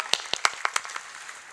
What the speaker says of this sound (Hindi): मैं चाहता हूँ एक बार आपकी आशीर्वाद की तालियां उन लोगों के सम्मान में भी पहुंचे।